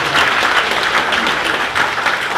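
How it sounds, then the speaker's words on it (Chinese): Steady, dense applause from a large group of people, continuous and fairly loud throughout without pauses. "请各位给他们掌声"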